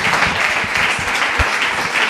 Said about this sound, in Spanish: Agradecemos a Lucía con un fuerte aplauso la charla de hoy